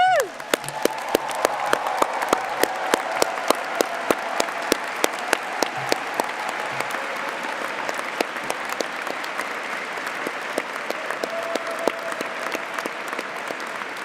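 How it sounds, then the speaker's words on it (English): A large audience applauds graduates at a rite-of-passage ceremony, a broad sustained wash of clapping lasting about fourteen seconds, with sharp individual claps standing out near the microphone and a faint voice or tone briefly heard early on. "please stand up and join us for a huge round of applause."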